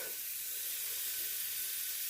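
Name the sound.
eggs frying with salt in a pan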